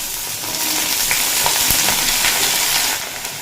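Potatoes frying in a pan over a medium flame give a steady, close, broadband sizzle with small crackles and pops, for a recipe of young raw papaya with potato; no voices.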